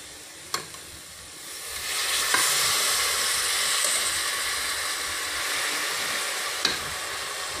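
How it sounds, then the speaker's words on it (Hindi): Loud sizzling and hissing as half a glass of water hits a hot pan of cluster bean curry, rising then settling into a steady fry, with a few sharp clinks of a utensil. "अब इसमें हम थोड़ा सा पानी डालेंगे।"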